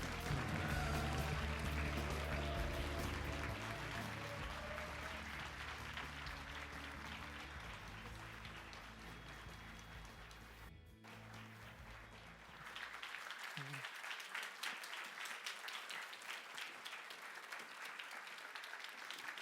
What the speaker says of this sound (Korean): 여러분, 최태원 회장님을 큰 박수로 환영해 주시기 바랍니다.